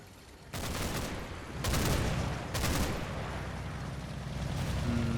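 Bursts of gunfire from units firing in the Combat Mission: Battle for Normandy video game, three broad loud volleys over a steady low background rumble, with no talk.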